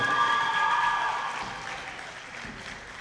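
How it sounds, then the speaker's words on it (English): Audience applause at a charter school boys basketball state semi-final, a moderate wash of clapping in an indoor gym with a faint whistle-like tone at the start, fading slightly toward the end. "Let's give a big round of applause coming all the way from El Paso, Texas"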